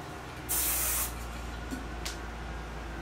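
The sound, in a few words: hairspray being sprayed on styled hair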